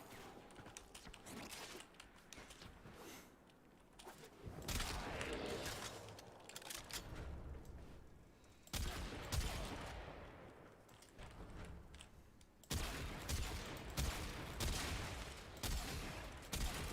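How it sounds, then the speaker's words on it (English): Weapon fire in the sci-fi shooter game Warframe comes as quiet, muffled bursts of rapid shots, with heavier volleys in several waves and mechanical clatter between them. "You're not shooting that nearly as fast as you could be, dude. You've got a weapon."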